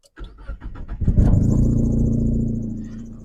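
A Mazda Miata engine cranks with a quick run of starter pulses, catches and settles into a loud, steady idle close by, with a faint belt squeal.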